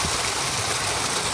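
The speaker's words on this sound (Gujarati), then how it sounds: "ખાલી પાણી આવી રહ્યું છે" Water gushing from a motor-driven pump into a groundnut field, a steady loud broadband rush that holds unchanged from start to finish with no voices.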